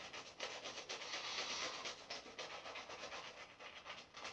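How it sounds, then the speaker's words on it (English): A shaving brush is worked around inside a pot of shaving soap, giving a soft, close, continuous bristly rubbing that rises and falls in quick swirling strokes. It is quiet and plays alone. "I've rubbed my brush back into the pot"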